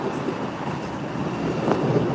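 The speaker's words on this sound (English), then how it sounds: "There goes 1928. One of the newest CRC trains to come into service." An MBTA Red Line subway train, one of the new CRRC cars numbered 1928, rumbles past at moderate distance with a steady rolling roar and faint rail clatter, no talking.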